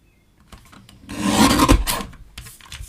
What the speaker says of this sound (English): I'm going to do is just trim it down with, what did I do with the trimmer?